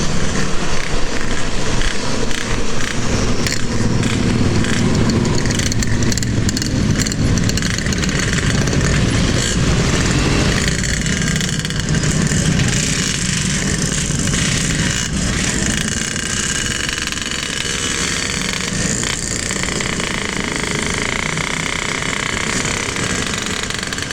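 A Yamaha X-Ride 125 automatic scooter rides along a quiet road at night, its engine droning loud and steady with wind rush throughout.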